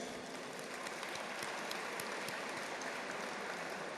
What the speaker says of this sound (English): A huge round of applause for all our winners once again